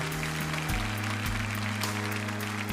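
An audience at a Crimean Tatar concert applauds as guests are called onto the stage. The clapping is dense and continuous, with steady music playing under it the whole time.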